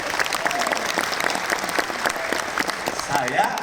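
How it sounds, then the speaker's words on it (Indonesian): Loud, sustained applause from a seminar audience at a motivational talk for workers and job seekers, continuous and close across the whole stretch with no pause. "Tepuk tangan yang keras buat kita."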